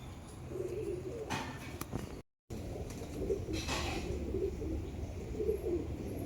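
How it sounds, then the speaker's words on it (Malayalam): Pigeons in a loft cooing softly in repeated low bursts, with light rustling and a brief gap in the sound, fairly quiet and close. "ഇതൊരു സുറുമയിൽ വരുന്നൊരു പ്രാവാണ്, ആമ്പ്രാവ്"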